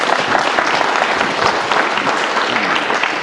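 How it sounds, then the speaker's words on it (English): A conference audience applauds loudly and steadily after a talk, a thick, close roar of many hands clapping that continues without a break. "Give him an applause."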